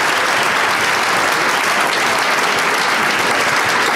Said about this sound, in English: let's give a nice round of applause for MedKit